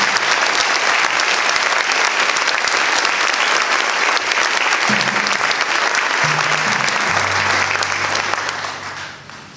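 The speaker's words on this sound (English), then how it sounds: "Could we please give them a big round of applause?" Sustained applause from a school concert audience after an instrumental spring performance, steady dense clapping throughout that tapers off at the end, with a few faint voices and stray tones underneath.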